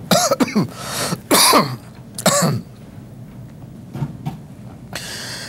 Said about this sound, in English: ain't nothing but a little cough